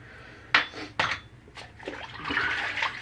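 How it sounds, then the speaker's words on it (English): Water splashes while rinsing off after a shave with a Dovo Shavette and shave soap, opening with two sharp knocks before a softer, continuous run of splashing and trickling. "Get a little rinse off here."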